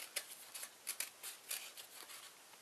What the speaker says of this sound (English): I'm gonna cut a bunch more off here.